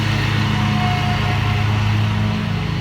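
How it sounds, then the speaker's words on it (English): A neighbor's lawnmower runs steadily nearby, a continuous droning engine hum that holds level throughout with no talk over it. "we have our neighbor over here running the lawnmower."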